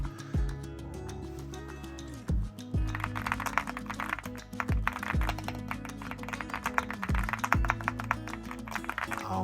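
Rapid key clicks from a Leobog Hi75 full-aluminum custom mechanical keyboard with side-printed keycaps, close and steady, layered over music with a low bass line.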